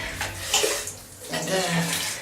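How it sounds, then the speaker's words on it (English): Water sprayed from a shower over pet ferrets in a shower pan at bath time, a spattering hiss that rises and falls in short bursts, with faint voices nearby. "I just kind of spritz as much water as I can over them"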